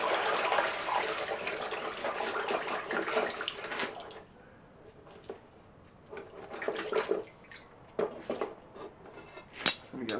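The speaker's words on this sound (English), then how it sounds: "Water quench." Hot hand-forged steel bill hook quenched in water, a loud hissing, bubbling gush for several seconds that cuts off, followed by quieter sputters, drips and a few metallic clinks.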